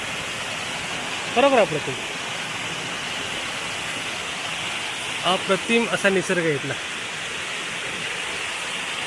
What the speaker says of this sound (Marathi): आणि धबधबा बघा इथला